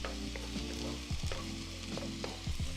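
Eggs scrambling in a hot pan for shrimp fried rice, a steady sizzle with a few scraping stirs and a low background hum, close and moderately quiet.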